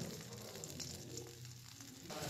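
Chopped garlic frying in melted butter and oil for cheesy creamy butter garlic prawns gives a soft, steady sizzle, quiet and close, with no talk over it.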